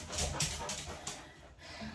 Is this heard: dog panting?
yes